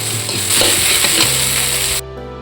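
Onion, tomato and two eggs fry together in a home kitchen pan, a steady loud sizzle with scraping and stirring clatter that cuts off sharply near the end, leaving a quieter hiss.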